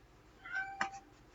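A single cat meow, fairly quiet and close, rising briefly and fading after about half a second, with no voices around it.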